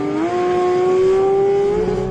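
A car launching hard on a quarter-mile run with ESC and traction control switched off, its engine note climbing steadily as it revs through the pull, loud and close with no talking.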